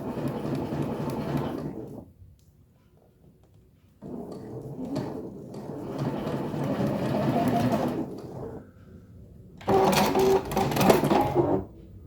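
A sewing machine stitches a curved Drunkard's Path quilt seam, guided with a stiletto toward the end. It runs in three close, rattling bursts separated by short pauses.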